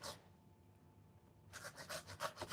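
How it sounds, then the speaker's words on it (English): An onion is grated on a fairly coarse grater in quick, rhythmic rasping strokes, close and crisp, starting after a brief pause of near silence. "when you grate an onion, it really gets the juices in there"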